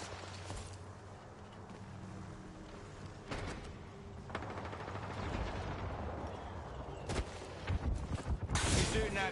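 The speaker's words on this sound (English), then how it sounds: "He's shooting at me." Gunfire in a video game: several sharp bursts and single shots at intervals, growing busier toward the end, under steady game ambience with a voice talking.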